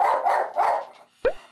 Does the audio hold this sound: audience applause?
no